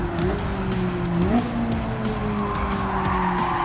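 Tires squeal and skid as a car slides through a corner in Gran Turismo 7, a steady high screech riding over the droning engine note, which rises with a gear change midway and holds loud and close throughout.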